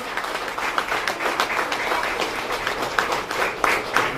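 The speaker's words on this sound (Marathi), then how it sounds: "म्हणजे जोरदार टाळ्या" An audience at a Marathi business meeting claps through the whole stretch. The applause is steady and moderately distant, with some individual claps standing out from the crowd.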